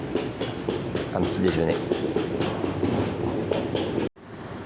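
A JR train at Imari station in Japan, with a steady rumble and clickety-clack of rolling wheels throughout, fairly close, as someone talks over it.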